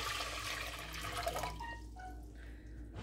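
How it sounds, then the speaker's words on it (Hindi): Water poured into a cooking pot for a chicken yakhni pulao, a steady splashing gush that thins into a fainter trickle partway through, quiet and close with no voices. "पानी डाल देते हैं पॉट में"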